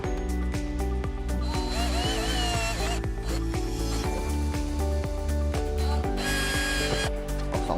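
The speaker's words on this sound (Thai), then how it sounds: "เจาะก่อนนะครับเจาะให้สายออกนะครับ" Power drill boring a wire hole in a homemade automatic solar lamp housing, close and loud, with tonal whines and repeated short bursts and scraping as the bit bites in.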